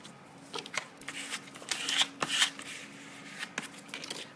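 A piece of kraft paper is torn off by hand for a Christmas tag craft, giving a run of close, crisp rips and crinkling rustles across a few seconds, with no talking.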